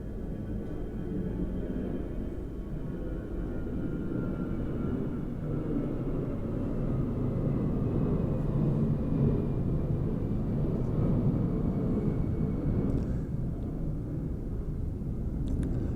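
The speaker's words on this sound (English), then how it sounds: "you may hear a plane going over as we speak" A low, steady rumble of a distant airplane passing over St Bartholomew's Church, Burstow, droning evenly throughout at a moderate level, with no talking.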